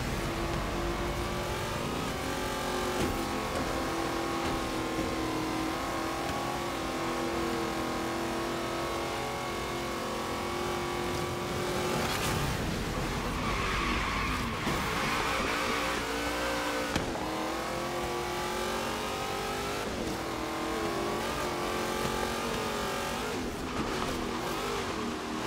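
A Nissan GT-R in Forza Horizon 3 with the Hot Wheels expansion, its engine revving loud and continuous with rising and falling pitch as it accelerates through gears, no voices.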